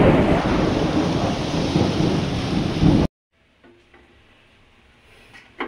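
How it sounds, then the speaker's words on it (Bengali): Heavy rain pours in a loud, dense, steady roar for about three seconds, then cuts off abruptly to near quiet with only faint scattered sounds. "বাইরে প্রচণ্ড বৃষ্টি হচ্ছে"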